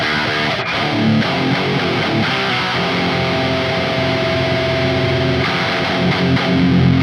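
A heavily distorted electric guitar played through a Neural DSP Archetype Gojira distortion pedal, thick and loud, chugging and ringing chords sustained continuously with no gaps.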